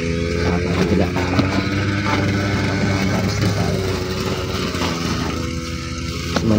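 A gasoline grass cutter drones steadily and loudly up close, its small engine holding a constant buzzing whine with no pauses.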